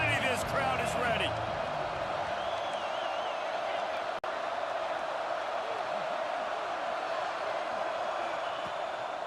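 A packed Ole Miss football stadium crowd roars with a continuous, loud wash of cheering while a commentator talks over it.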